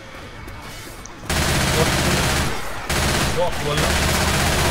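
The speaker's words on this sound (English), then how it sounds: "You are shooting me!" Rapid automatic gunfire from the video game Left 4 Dead 2 in a Versus match, loud and continuous bursts filling most of the stretch, with a short lull, as a player speaks briefly over it.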